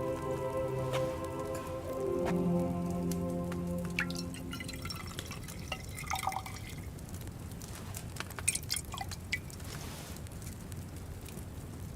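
Liquid poured during alchemy brewing in Kingdom Come Deliverance 2, a soft trickle with scattered drips and splashes after a steady tonal hum fades, fairly faint throughout.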